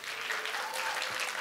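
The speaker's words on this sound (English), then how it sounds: "Give yourself a round of applause." High school students in a classroom during a writers' week session applaud themselves in a brief, even burst of many hands, steady and moderately loud without talk.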